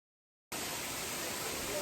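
A waterfall at a Thai nature spot gives a steady, dense rushing hiss that starts abruptly after a half-second of silence and continues evenly at moderate loudness.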